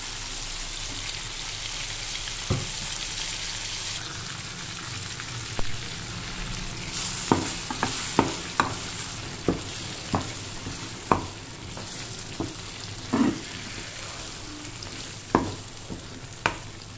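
Brinjal pieces sizzle steadily in oil in a pan as masala is stirred in Andhra-style oil brinjal curry, with a row of sharp spatula scrapes and clicks against the pan over the constant frying hiss.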